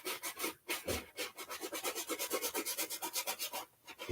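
A bristle brush scrubs paint back and forth on canvas in quick, even strokes, a steady rhythmic rasping close by that breaks off briefly twice and carries on with no talking.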